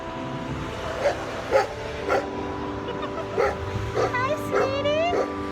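A dog barks and whimpers in short yips and whines, several close bursts spread across the moment, with a high whine rising near the end and a steady background hum.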